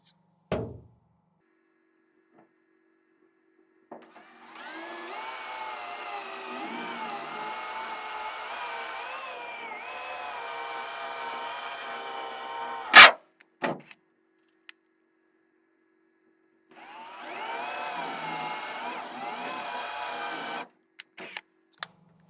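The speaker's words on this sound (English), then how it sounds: "We'll just punch and drill and move on." Power tool drilling and punching holes in a boat bow cover mock-up, two sustained whining runs separated by silence and a few sharp clicks and knocks.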